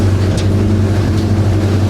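Steady, loud drone of the towboat Scout's engine near Titusville at night in rough water under small craft warnings, with wind buffeting throughout and no talk.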